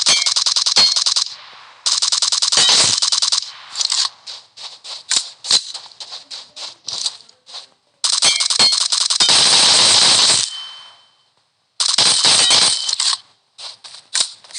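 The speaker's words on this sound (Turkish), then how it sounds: "Şu sesi çok seviyorum arkadaşlar. Şu sesi çok seviyorum. Mermi." Loud, close gunfire in the mobile game PUBG Mobile, with rapid automatic bursts broken by short gaps and single shots, heard alone without talk.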